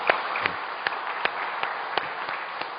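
A church congregation applauds during a Sunday service, a steady crowd of clapping with sharper individual claps standing out, heard from across the room at moderate loudness.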